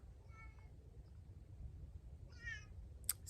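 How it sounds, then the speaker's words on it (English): Two faint, short meows from a cat in a quiet room, one early and one a couple of seconds later, set against low background hum, followed by a brief sharp tick. "Sorry about the cat."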